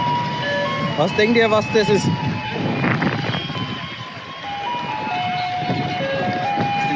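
A tinkling melody plays from a passing garbage truck in Taipei, bright single notes repeating over street traffic, while someone speaks at the start.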